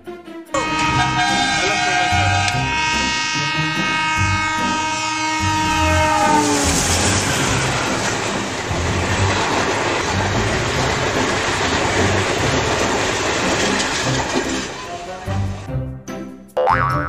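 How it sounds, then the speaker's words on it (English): Passing train rumbling steadily with a horn blast and rolling wagon clatter, loud and close, overlaid on a bright cartoonish boing effect and music throughout. "T for train."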